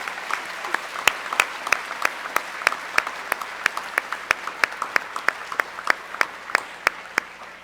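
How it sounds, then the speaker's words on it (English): Audience applause at a middle school awards assembly, rendered as sparse, distinct hand claps in a steady rhythm, fairly near and moderately loud. "So let's give them all one more round of applause."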